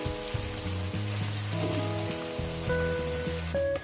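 Katla fish pieces frying in hot oil, a steady close sizzle and crackle under faint background music, with no talk.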